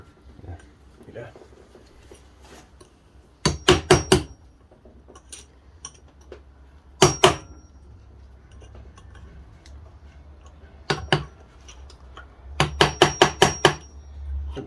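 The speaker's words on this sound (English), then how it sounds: "It's got to be tapped in all around now." Sharp metallic hammer taps on a part of a VW 02M six-speed gearbox under repair come in quick bursts of three to six strikes, separated by pauses with a low background hum.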